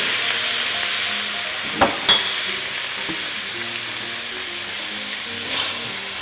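Ingredients stirred in a hot frying pan, a loud close steady sizzle with occasional sharp scrapes and taps of the utensil against the pan.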